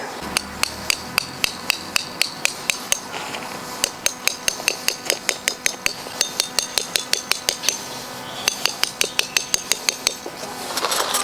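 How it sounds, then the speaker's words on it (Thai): Tent stakes being hammered into the ground at the corners of a LAGOONA KN camping tent: a long, steady series of sharp metallic strikes, close and loud, with brief pauses between runs and no talking. "เดี๋ยวเราก็มาตอกสมอทุกมุมนะครับว่าเต็นจะออกมารูปทรงไหน"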